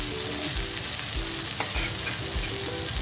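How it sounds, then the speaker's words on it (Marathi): Bangda mackerel fish fry steadily in oil in a pan, a dense continuous sizzle and crackle with faint low periodic bumps throughout, no voices. "आपण दोन्ही बाजूने आता त्यांना खरपूस भाजून घेणार आहोत।"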